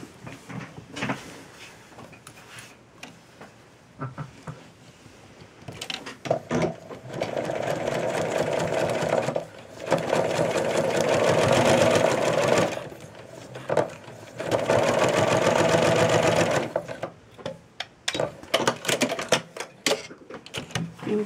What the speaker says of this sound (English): stitch it from here to here on the sewing machine